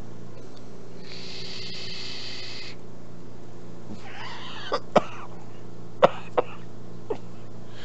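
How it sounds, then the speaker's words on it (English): A person coughs after vaping, a few sharp, close coughs arriving in a short irregular cluster near the end, following a quiet stretch with a faint steady hum in the room. "that made me cough"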